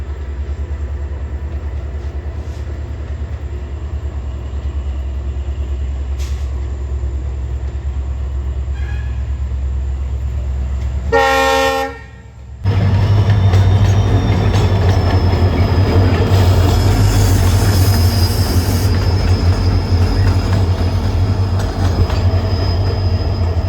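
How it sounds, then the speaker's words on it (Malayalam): A Mangalore-to-Bangalore passenger train hauled by three engines passes close by with a loud, steady rumble of wagons, a burst of wheel squeal partway through, and a continuous heavy roar that stays strong to the end. "ഇത് മംഗലാപുർ ടു ബാംഗ്ലൂർ പോകുന്ന ട്രെയിനാണ്. ഇത് 3 എഞ്ചിൻ വെച്ചാണ് പോകുന്നത്."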